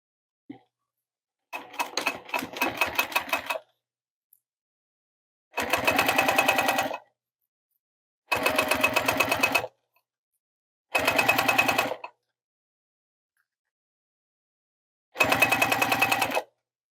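A sewing machine stitches a bag in five separate runs, each a rapid mechanical chatter lasting one to two seconds, with short quiet pauses between them, close and clear, with no talk.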